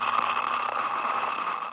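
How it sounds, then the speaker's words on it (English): Steady hiss of white noise from a surveillance debugging device, a continuous broadband wash with faint tonal hums beneath it, even and unbroken across the whole stretch. "It's white noise."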